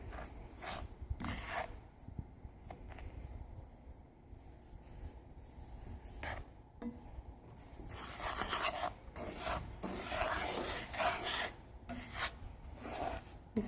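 Wooden spatula scraping and rasping through thick toffee in a pan, irregular rubbing strokes close up, with bursts of brighter scraping later on and no voices.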